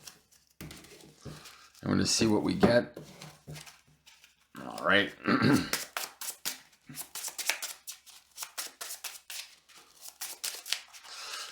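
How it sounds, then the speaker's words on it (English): Trading cards in foil sleeves shuffled by hand for a Rumble deck, giving a series of quick crisp riffling bursts and soft slides, close and moderately loud, with someone talking between and over them. "I'm gonna shuffle our deck."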